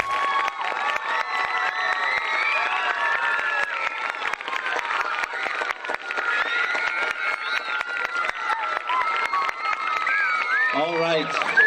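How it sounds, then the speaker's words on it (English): Crowd at a school Veterans Day celebration cheers, whoops and applauds steadily for nearly twelve seconds, children's shouts rising above the dense, loud roar, with one voice briefly audible near the end. "Let's give one big round of applause now for everyone."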